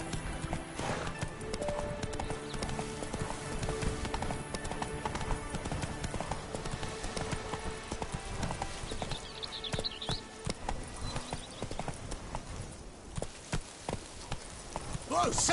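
Galloping horse hoofbeats in a video game, a steady rapid clip-clop running throughout with an occasional whinny, while a voice talks over it intermittently.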